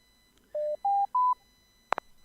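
Three steady telephone dialing tones sound in sequence on a radio call-in show as the phone lines open, followed by two short clicks, with no talk.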